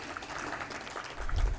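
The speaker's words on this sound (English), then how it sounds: "A round of applause, ladies and gentlemen." An audience claps at a conference valedictory event, a steady patter of applause in a hall that swells toward the end, brief and moderately loud.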